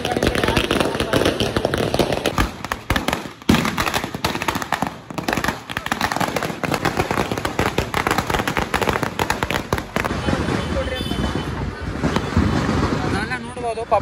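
Firecrackers burst in rapid, crackling volleys during a Ganpati immersion procession near Shivaji Garden in Belagavi, loud and continuous amid crowd noise, with someone speaking over them.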